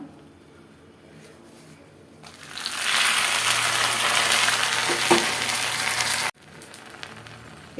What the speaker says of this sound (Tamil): கருவேப்பிலையும் இதிலே போட்டு நல்லா பொன் வரவுலாம் வறுத்துக்கலாம்